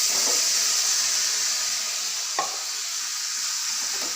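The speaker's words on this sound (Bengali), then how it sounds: "এবার দিয়ে দেবো যে পেস্টটা আমি মশলার বানিয়ে রেখেছি সেই পেস্টটা" Spice paste fries in hot oil with cumin seeds in a wok, giving a loud, even sizzle and hiss throughout, broken by a single stirring scrape midway.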